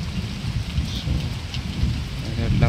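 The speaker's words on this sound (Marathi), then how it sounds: "10 मिनटं एवढा खतरनाक पाऊस लागला आहे ना, आणि ढगांचा गडगडाट एवढ्या जोरात होता" Heavy rain pours down in a close, steady roar while low thunder rumbles through, with scattered sharper drop impacts on a nearby surface and no one speaking.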